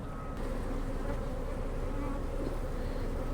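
Dense, steady buzzing of many honey bees around an open hive during a split, a constant close drone filling the whole stretch without talk.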